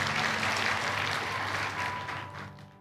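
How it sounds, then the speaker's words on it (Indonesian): A church congregation claps steadily for nearly three seconds, a dense wash of hands in a large worship hall that slowly thins toward the end, with no talking over it. "Berikan tepuk tangan bagi Tuhan Yesus Kristus"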